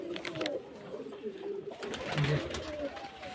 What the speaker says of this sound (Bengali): পায়রা ভালো ভালো পায়রা আছে, সব মুর্শিদাবাদের গিরিবাজ লাইনে পায়রা আছে